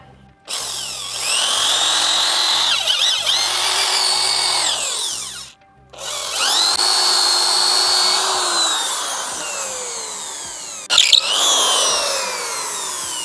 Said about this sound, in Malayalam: നമ്മൾ മിഷൻ എടുത്തു ഇനി ഓരോന്നിനും ഹോൾ ഇട്ട് കൊടുക്കുക